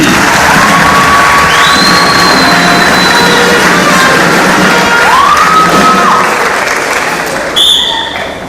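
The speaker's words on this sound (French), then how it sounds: "On les applaudit" Loud, close audience applause and cheering at a school improv theatre match, with dense clapping, whoops and high shouts from young voices sustained throughout, over a bright sustained tone that shifts in pitch.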